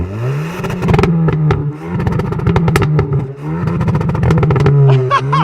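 A Hyundai i20N hot hatch with a 1.6-litre turbo four-cylinder revs loudly and up close in repeated sharp blips, with crackles and pops between rises in pitch.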